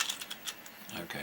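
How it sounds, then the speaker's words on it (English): Screws are turned down by hand into a motorcycle crankcase for a side gearbox assembly, giving a brief run of small metallic clicks and ratcheting ticks, close and fairly quiet. "we're very carefully screwing the screws down"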